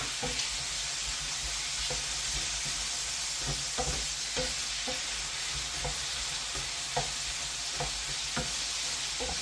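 Pork browning in a pan for a pork and apple cider casserole gives a steady, quiet sizzle with regular soft clicks of stirring scattered throughout, and no voices.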